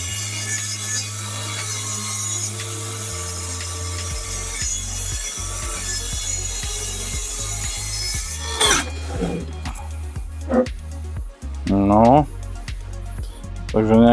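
A Parkside Performance 20V cordless plunge saw whirs steadily, then bites into wood with a rougher grinding cut, with brief talk near the end.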